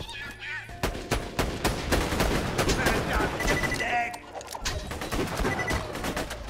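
Rapid gunfire in the shooter Borderlands 2, a sustained automatic volley of loud, closely spaced shots over several seconds with brief pauses.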